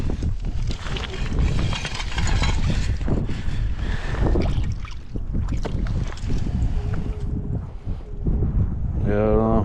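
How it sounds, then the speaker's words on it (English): Gusty wind buffets the microphone outdoors on the Downeast Maine coast, rising and falling in loud rumbling bursts, with a person talking amid the noise. "Boy, the wind's picking up."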